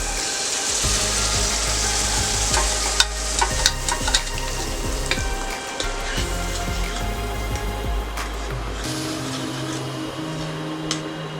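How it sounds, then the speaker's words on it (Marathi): Lentils for a tangy, spicy Maharashtrian dal sizzle steadily as they are stir-fried in a pan, with a continuous close frying hiss and scattered scraping stir sounds, no voices. "डाळ चांगली परतून घेऊया।"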